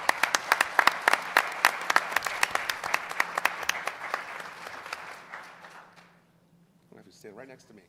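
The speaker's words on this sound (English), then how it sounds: "Let's give her a big round of applause." An audience at a school board meeting claps in sustained applause, sharp and dense at first, then thinning out and fading before a voice speaks near the end.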